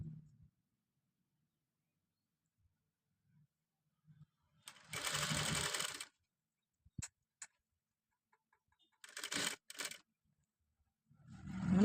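A sewing machine stitches the neckline of a long designer gown in two short, clear bursts of whirring, with near silence and a few faint handling sounds between them.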